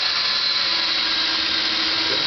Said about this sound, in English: Now, get your drill, and what I want you to do is a pilot hole through there and drill both of those marks